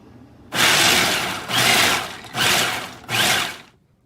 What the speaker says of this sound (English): Now I'm about to add 2 cups of raw pecans to my food processor to create a pecan and date nut crust.